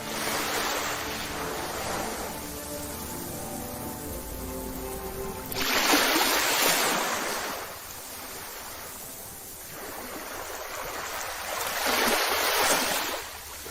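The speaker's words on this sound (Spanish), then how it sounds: "La marea subía lentamente, invadiendo poco a poco las partes bajas de la plataforma" Sea waves roll in on a rising tide over a low rocky platform. Two big surges break and wash in, with a softer steady rush of water and light wind between them.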